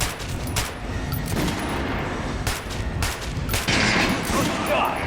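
Weapons fired at target dummies on a practice range in Metro: Last Light, with sharp repeated shots and bursts ringing out over steady background noise while a voice talks now and then.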